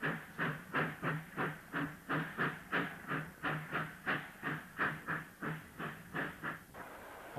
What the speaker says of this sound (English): She prepares to push coal empties to the exchange sidings about a mile away and steeply graded